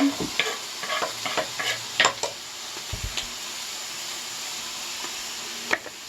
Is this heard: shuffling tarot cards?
no